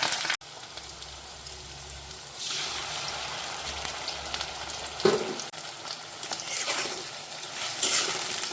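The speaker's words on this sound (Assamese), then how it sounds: "এতিয়া তৰকাটো মাৰি ল'ম।" Spices for a tarka hit hot oil for cooked dal and crackle into a bright, hissing sizzle, with clinks of stirring and bursts of spattering, close up.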